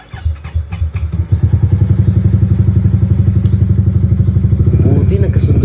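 A motorcycle with only 6,000 km on the odometer, long parked and showing a check-engine fault, is started on its battery: a few uneven cranking thumps catch into a loud, close, steady rhythmic idle that runs to the end.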